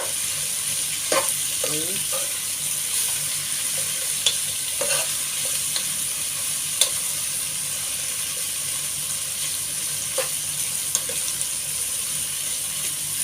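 Bitter gourd (ampalaya) is sautéed and stirred in a pan with a continuous sizzle and repeated scraping and clacking of the utensil; a voice briefly speaks once.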